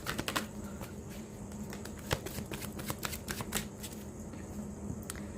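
Tarot cards being shuffled by hand, a close, continuous crisp riffling and flicking with rapid irregular card slaps throughout, alone with no talking.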